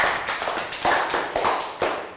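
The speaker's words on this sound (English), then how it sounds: "Round of applause for Latka." A class of pupils gives a short round of applause for a classmate, with scattered, uneven claps that come in several fuller bursts at close range.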